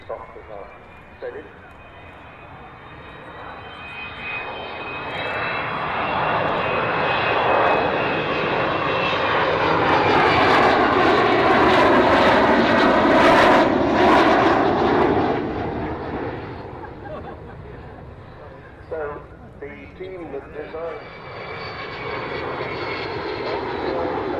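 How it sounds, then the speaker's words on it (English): Avro Vulcan jet bomber passing overhead at RAF Mildenhall, a loud roaring engine rumble that swells to a peak and fades, with a voice talking briefly over it. "listen to the sound of this, the Vulcan"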